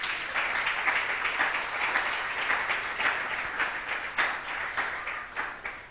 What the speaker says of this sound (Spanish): ¿Cuánto le dan un aplauso a Dios en esta mañana por eso?